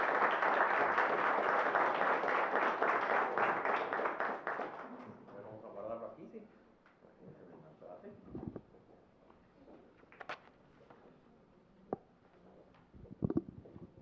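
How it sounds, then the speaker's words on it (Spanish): Audience clapping loudly at the close of a formal lecture on human trafficking hosted by the judiciary, a dense burst lasting about five seconds before fading into scattered claps, shuffling and murmuring. "Fuertes aplausos, por favor."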